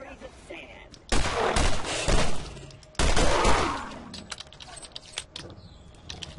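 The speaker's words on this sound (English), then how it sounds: "Fucking shoot him to death" Gunfire from the video game Borderlands while shooting an enemy: two loud, sustained volleys of shots, each lasting about a second, then scattered lighter clicks and pops, with some speech mixed in.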